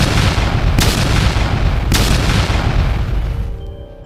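Massive explosion in a fantasy audio drama, big enough to shake a valley: a loud, continuous roaring rumble punctuated by two sharp blasts, slowly fading away at the end.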